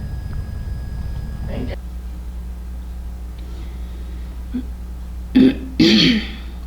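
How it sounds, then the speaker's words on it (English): Two short, harsh throat-clearing bursts near the end, following a stretch of low background hum and faint talk. "She's been clearing her throat a lot."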